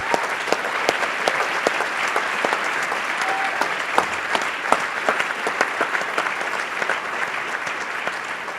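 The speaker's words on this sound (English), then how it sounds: "Please join me again in applauding these representatives of the airport lawyers." A luncheon audience at an ACLU Southern California annual event claps steadily, dense hand claps with sharper individual claps standing out, sustained at an even level throughout.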